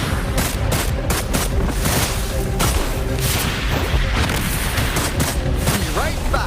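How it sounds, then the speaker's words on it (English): Gunfire in the Wuthering Waves video game comes in dense, rapid bursts mixed with heavy booms, loud and nearly continuous, with a character's voice lines over the combat. "Let the bullets fly."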